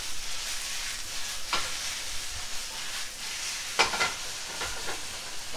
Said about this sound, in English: shallot, a little bit of ginger, some garlic, some curry spices, all cooked in oil until you get this kind of paste.